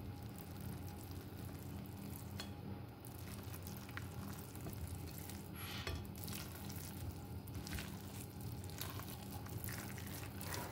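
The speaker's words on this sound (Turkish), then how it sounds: "Kapağını açacağım ve tekrardan karıştıracağım." Fermented buckwheat tarhana dough is stirred in a pot, a quiet, continuous wet scraping and squelching with faint clinks, close by and with no talking.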